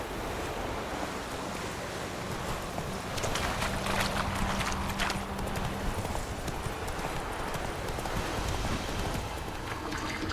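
Horse hooves clip-clopping in The Witcher 3 video game, a steady rhythmic trot of hoofbeats moving along over a broad wash of wind and surf-like ambience.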